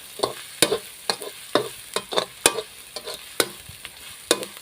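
Tilapia frying in oil in a pan, with a steady crackling sizzle broken by repeated sharp scraping and stirring clatters from a utensil, close up and with no voices.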